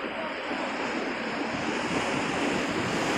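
Ocean waves wash onto the beach at Ketewel, Bali, a steady broadband surf hiss mixed with wind buffeting the microphone, continuous and fairly near, with no voices.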